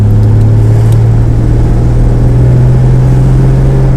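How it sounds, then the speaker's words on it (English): A 1963 Ford Falcon engine hums steadily at idle or low speed, with a low, constant exhaust drone close by and no talking. "You can hear a little bit of the exhaust note there."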